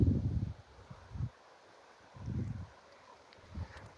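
Soft gusts of wind rustle through trees in slow swells, faint and distant, with quiet pauses between each surge.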